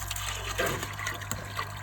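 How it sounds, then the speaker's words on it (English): Pond water pours and splashes continuously into a pond filter, a gushing, bubbling flow over a low background hum. "so I get some water from the pond and then pour it into the filter"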